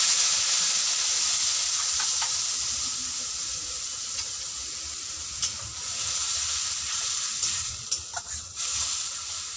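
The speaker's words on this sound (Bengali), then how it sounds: "আমি এবার এই মশলাটা ওর মধ্যে দিয়ে দিচ্ছি তেলের মধ্যে।" Spice mix added to hot oil where cardamom and cinnamon have already fried, giving a steady close sizzle and hiss with a few soft stirring knocks and scrapes, no voices.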